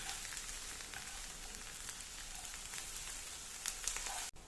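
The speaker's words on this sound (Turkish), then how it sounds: "tavamıza bir tatlı kaşığı domates salçasını alıyoruz. Ve onunla da kavuruyoruz" Onion and a spoonful of tomato paste frying in a pan, a close continuous crackling sizzle with faint stirring, ending in a brief knock.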